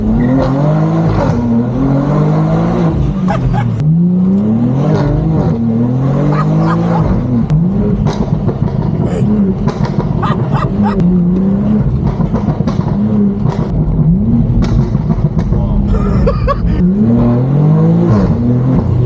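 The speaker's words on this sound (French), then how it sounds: "le passage de rapport est beau." A tuned BMW M2 engine revs hard and repeatedly in town, climbing in pitch and dropping sharply at each gear shift, loud and close throughout.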